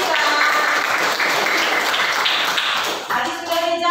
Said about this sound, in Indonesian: Beri tepuk tangan untuk Nisa.